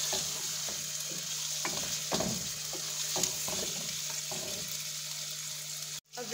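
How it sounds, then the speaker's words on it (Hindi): Chicken with ginger-garlic paste fries in a pan for Kabuli pulao: a steady close sizzle under repeated stirring scrapes and clatters of a utensil, ending in a sharp knock, with no talking. "चिकन ऐड करें और इसको हम तब तक फ्राई करेंगे जब तक इसका जो कलर है वो चेंज भी हो जाता है।"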